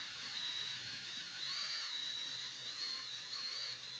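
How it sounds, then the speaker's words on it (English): A high-pitched drill mixing ash into white glass whines steadily and fairly quietly, its tone wavering slightly as it spins, with no talking. "We're going to use a drill to mix it all."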